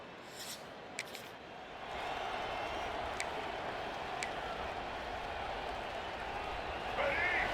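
Steady, dense roar of a stadium crowd cheering in EA Sports College Football, Toledo playing at Michigan, swelling after a couple of seconds and holding loud throughout with a few sharp pops above it.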